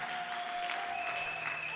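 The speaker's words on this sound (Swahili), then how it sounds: "naomba mpigie makofi mke wangu wakati anakuja kutufundisha" Applause from a church congregation welcoming the pastor's wife, a steady, moderate wash of many hands clapping, with a faint sustained tone running underneath.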